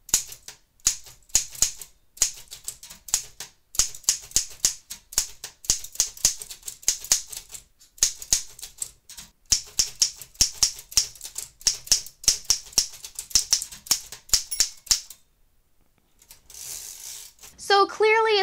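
A restored Royal 10 manual typewriter runs through a typing test, with rapid, uneven clacking keystrokes close up for about fifteen seconds, then a brief pause and a carriage movement with a ratcheting whir at the end.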